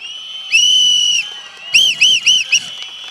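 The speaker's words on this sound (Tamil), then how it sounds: "உங்களுடைய தொகுதியிலிருந்து எங்களின் விசில் சத்தம் விண்ணை பிளக்கின்ற வகையில் இதோ நாங்கள் ஊதுகிறோம்." Shrill whistles blown at a political rally crowd: one long sustained blast, then four short rhythmic bursts, loud and close, with faint voices under them.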